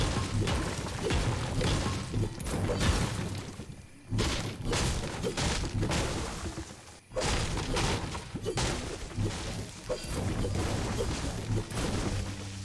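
A Combo Cleaver pickaxe in Fortnite strikes and destroys objects, giving repeated loud metallic whacks, crashes and shattering impacts in dense bursts, with a few brief pauses between runs of hits.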